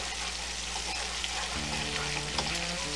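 Chopped garlic toasting in a pan for garlic herb mashed potatoes, a steady close sizzle and fry with faint stirring, no voices, continuous throughout.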